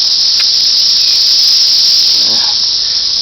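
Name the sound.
cicadas buzzing in Tennessee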